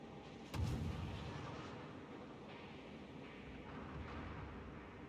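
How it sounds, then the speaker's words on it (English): Heavy naval guns boom in a warship video game as fire is concentrated on an enemy ship, starting with one loud blast followed by a long rumbling roar, with no talking. "Concentrate fire on the enemy warship."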